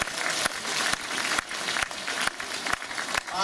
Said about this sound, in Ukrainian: Давайте попросимо, будь ласка, ваші оплески.